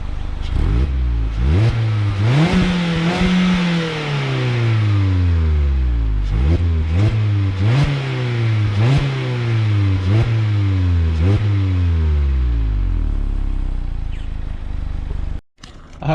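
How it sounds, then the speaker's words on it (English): Engine of a 2019 Mazda MX-5 Miata RF sports car revved repeatedly, loud and close, rising in a series of sharp climbs and dropping back between each, with no talking. "Now I'll show you how it sounds like when we rev it up."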